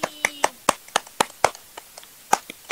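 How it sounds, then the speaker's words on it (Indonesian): Hands clapping in a classroom, roughly a dozen sharp, uneven claps spread across a few seconds, close and distinct with quiet gaps between, like a small group of students applauding a classmate. "Ya, beri tepuk tangan untuk Mbak Silvi."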